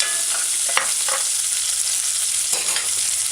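Diced scallion sizzling in hot oil while being stir fried, a steady close hiss broken by a few scraping stirs of the utensil, with no talk.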